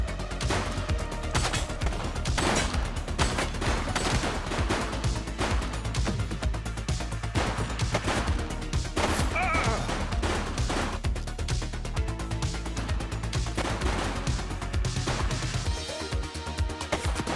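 Rapid, dense gunfire fills a shooting sequence in the police game The Precinct, with loud sharp shots cracking continuously over a steady, busy din of game sound.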